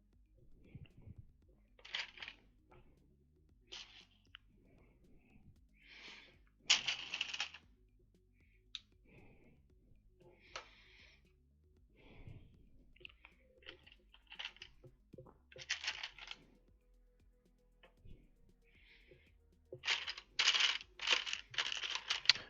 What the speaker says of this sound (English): Is the sound of me rustling through the parts coming through the mic at all